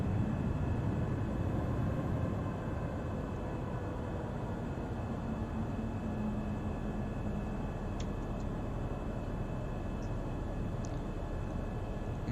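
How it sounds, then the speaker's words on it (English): Boeing 737 MAX thrust reversers in the X-Plane 11 flight simulator: a steady, dense engine roar that holds at even loudness throughout, with a faint hum riding underneath and no talk. "And we have the reversers kicking in."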